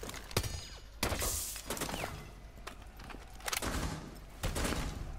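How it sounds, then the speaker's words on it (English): Video game gunfire rattles out in several sharp, loud bursts and single shots, spaced irregularly across a few seconds with brief gaps of quieter background between them. "Where are they shooting from?"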